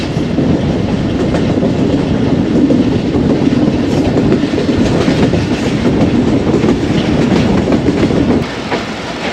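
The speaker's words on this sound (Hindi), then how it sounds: "बहुत ही स्लो हो गई है ट्रेन।" The Pak Business Express passenger train on its Karachi to Lahore run rolls slowly along the rails near Lodhran Junction, giving a loud, steady rumble with rattling wheel clatter from start to finish and no talking.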